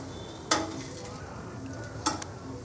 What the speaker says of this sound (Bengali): গাওয়া ঘিটাকে অল্প করে লাগিয়ে এর মধ্যে আমি পিঠেগুলোকে একটু ভেজে নেব